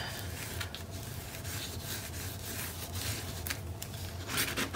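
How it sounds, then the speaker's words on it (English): Steady rubbing of a burnishing tool over layered cardstock on a Christmas scrapbook page. Soft, continuous scraping and friction at close range, with no voices. "I'm doing some extra burnishing because there's that extra layer of cardstock behind it."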